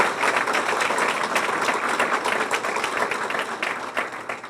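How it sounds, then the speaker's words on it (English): An audience at the 2014 Brookhaven, Georgia State of the City address applauds the city police department with sustained, dense clapping that stays fairly loud and even before thinning slightly at the end. "Let's give them a round of applause"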